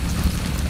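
A horse's hooves clip-clop briefly and lightly in the video game Far Cry 6, a short run of quick, even steps with nothing else heard.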